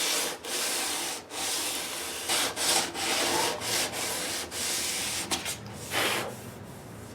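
Sandpaper of 400 grit rubbing over the finish of a classical guitar in short repeated strokes, a close, dry hiss with brief pauses between passes.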